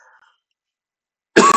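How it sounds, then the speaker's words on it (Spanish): A single short, sharp cough bursts out loudly near the end after near silence, close to the listener. "Disculpe por la tos."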